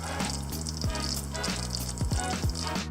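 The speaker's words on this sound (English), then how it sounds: "That's simmering." Apple pie filling simmers in a pan, giving a soft, steady bubbling with small pops and gurgles recurring every half second or so, close and with no talk.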